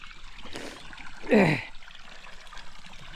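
Water runs out of a pipe into a trough, a short trickling gush rising and fading over about a second against a quiet outdoor background.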